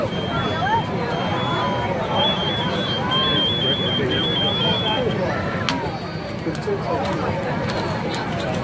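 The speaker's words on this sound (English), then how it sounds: "It's even setting off the smoke alarm in the other unit." A faint, steady high smoke alarm beeping from a neighboring unit during a building fire, broken into dashes, sounds under a loud wash of voices and background noise.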